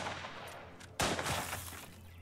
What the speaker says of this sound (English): Go on, shoot the... Scarecrows.